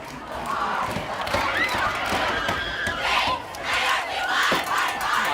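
Cheerleaders shout and chant loudly at a football game, rhythmic crowd cries rising and falling in bursts over stadium background noise.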